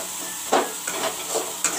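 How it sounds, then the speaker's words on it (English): Masalas fry in a pan for red gravy dhaniya egg curry, a steady close sizzle with a few short stirring scrapes. "Fry the masalas nicely."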